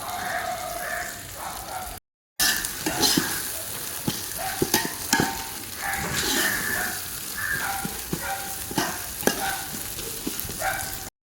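Ginger garlic paste with mint and coriander leaves fries in a pan for mutton biryani, a loud continuous sizzle with repeated scraping and clinking of a spoon stirring, cut by a brief silent gap early on.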